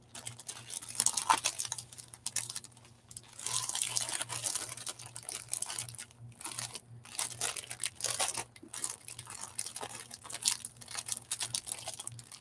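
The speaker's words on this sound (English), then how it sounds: "I know not everybody likes that plastic bag sound." A plastic bag being crinkled and handled during a small paper sale, producing steady rustling and crunching close by with a faint hum underneath and no voices.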